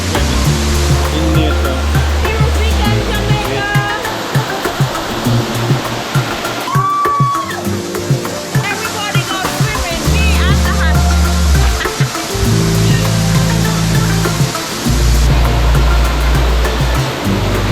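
Steady roar of Sugarloaf Falls, a hidden waterfall on a nature and herbs hike near Kingston, rushing continuously and loudly across the whole stretch, with a voice cheering briefly and low thumps and rustles from handling nearby.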